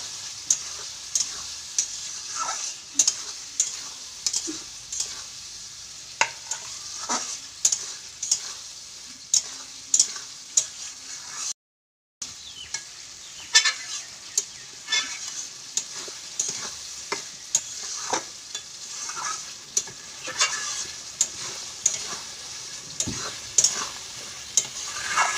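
Boiled, salted peas stir-fried for mutter paneer give a continuous close sizzle, punctuated by frequent spoon scrapes against the pan, with a brief silent gap midway.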